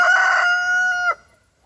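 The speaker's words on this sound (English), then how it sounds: "Damn rooster! This scared me." A rooster crows once, loud and close, a long drawn-out call that breaks off abruptly, followed by quiet.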